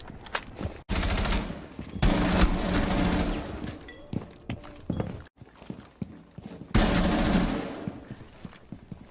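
Rapid rifle fire in a shooter video game, coming in several dense bursts of loud close shots with brief gaps between them.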